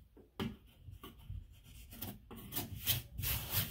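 Excess cured spray foam being cut away from a patched drywall hole, producing close, irregular scraping and rubbing strokes with brief pauses between them.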